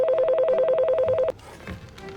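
A telephone ring tone pulses rapidly and steadily for over a second, loud and close, then cuts off abruptly into quiet room noise.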